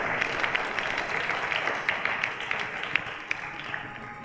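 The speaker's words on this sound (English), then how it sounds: "A round of applause to each and every one of them" A studio audience at a quiz show applauding, a fairly faint, dense patter of clapping with scattered sharper claps, steady for a few seconds with no talking over it.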